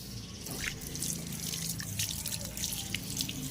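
Water is poured while lake fish is cooked outdoors, making a steady splashing trickle with scattered drips that runs the whole time at moderate volume.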